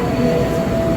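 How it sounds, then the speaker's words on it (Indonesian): Sri Tanjung passenger train departing a station, a steady loud rumble of rolling railcars with a sustained tonal hum and no pauses, close by and alone. "Nah ini yang di sebelah sini kereta api Sri Tanjungnya berangkat"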